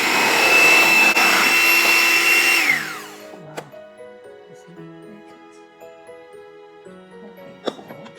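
An electric hand mixer beats sponge cake batter with a loud, steady motor whir, then winds down and stops, leaving quiet clinks and small kitchen sounds.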